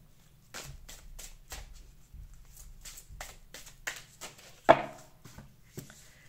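Tarot cards are shuffled for a chakra reading, with close soft riffling bursts repeating at a steady rhythm and one sharper slap near the end.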